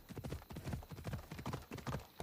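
Horse hooves in Assassin's Creed Odyssey clip-clop in a steady, rhythmic gallop, quiet and even throughout.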